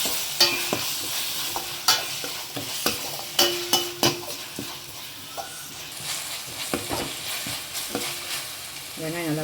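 Onions sautéing with rock salt in a pan for an amma-style fish curry, with a close, continuous sizzle broken by repeated sharp scrapes and taps of a spoon stirring against the pan.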